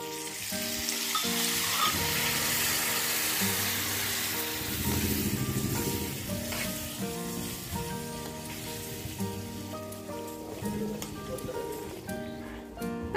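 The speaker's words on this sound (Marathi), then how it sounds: "या फोडणीमध्ये मी थोडस पाणी घालते" Water poured into a hot tempering of red chillies, curry leaves and Kashmiri chilli powder for dal tadka sizzles loudly and steadily, then gradually settles, with music playing underneath.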